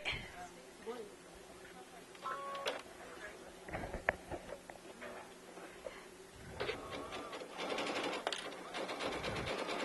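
A sewing machine stitches a row of pearls onto the edge of flat piping at stitch length and width 4, running in a fast rattling patter with brief pauses and restarts, while a person talks nearby.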